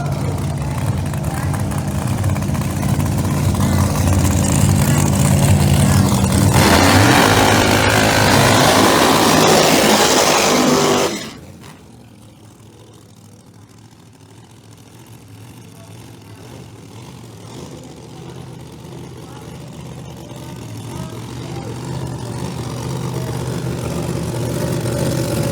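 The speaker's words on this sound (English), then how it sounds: "Roots blower on the Zalak's machine, nitrous oxide, powering the Sorcerer." Pro Mod drag cars, one with a roots blower and one on nitrous oxide, racing at an outlaw Pro Mod elimination round; a loud, sustained engine roar fills the first half, then cuts off sharply and a quieter engine drone builds back up.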